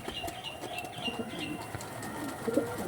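Pigeons for sale coo softly in the background, a faint murmuring flock with occasional light chirps and wing rustles, no voices.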